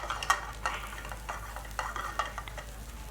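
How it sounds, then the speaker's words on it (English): Spices frying in a hot pan at a restaurant chef's demonstration, sizzling with a spoon scraping and stirring in repeated strokes close up. "There's a principle of frying off the spices"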